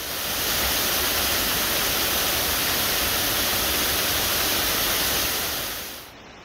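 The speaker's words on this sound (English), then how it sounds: "Just had a glimpse of the main waterfall," Waterfall on the Isle of Mull, Scotland, heard as a steady, loud broadband roar of falling water that fills the whole stretch and fades slightly near the end, with no voices.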